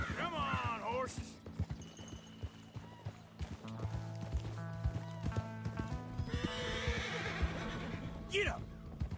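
Horses in the video game Red Dead Redemption 2 whinny and neigh several times, with hoof clops and a steady low hum behind them, fairly close and loud throughout.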